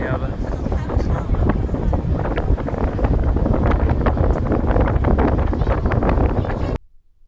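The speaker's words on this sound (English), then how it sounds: "we're on the ferry out to Manly" Strong wind buffets the microphone on a ferry crossing Sydney Harbour to Manly, making a loud constant rumble with gusty bursts that cuts off abruptly at the end.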